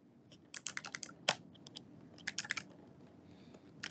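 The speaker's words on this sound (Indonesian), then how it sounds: "ini keyboard gue nggak bisa lagi" Quick bursts of keystrokes come from a computer keyboard at a desk, uneven clusters of soft clicks separated by short pauses, fairly quiet, with no talking.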